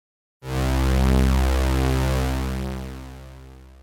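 A thick super saw synth pad, detuned and buzzy, swells in from silence with a slow attack, holds a steady sustained chord, then gradually fades on a slow release, heard alone.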